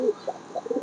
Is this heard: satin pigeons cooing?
yes